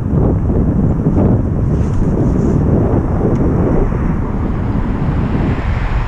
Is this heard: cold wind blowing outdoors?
yes